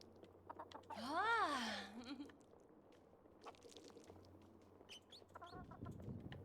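Chicken clucking in the farming video game Fae Farm, a short burst of clucks near the start with fainter calls later, over a steady low game hum.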